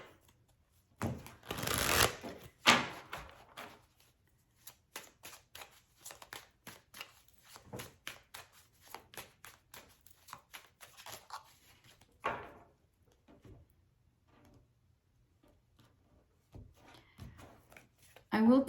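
Tarot cards being shuffled by hand in a quiet room, a burst of riffling near the start followed by many short, crisp card slaps and flicks, close and fairly soft.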